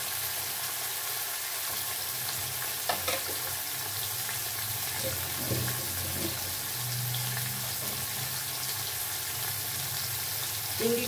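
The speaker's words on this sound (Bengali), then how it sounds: "চিংড়িটা ভেজে নিয়ে তুলে নেব।" Shrimp frying in a pan for patol chingri (pointed gourd and prawn curry), a steady low sizzle with occasional stirring clinks and scrapes, close and moderately loud, no voices.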